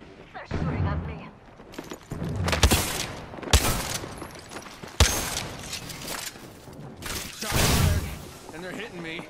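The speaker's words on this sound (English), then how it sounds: "They're shooting at me." Gunfire in the battle royale game Apex Legends, with repeated bursts and sharp single shots, loud and close, separated by short pauses, alongside other game sounds.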